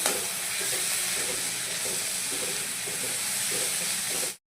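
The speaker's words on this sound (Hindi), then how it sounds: "अब हम इसमें अदरक लहसुन का पेस्ट डालेंगे 1 चम्मच। इसको भी कच्चापन हटा लेंगे, इतना रोस्ट कर लेंगे।" Ginger-garlic paste fries with roasted onions for Bengali-style ghugni of curried yellow peas, making a steady, close sizzling hiss with faint rhythmic stirring until the sound cuts off abruptly.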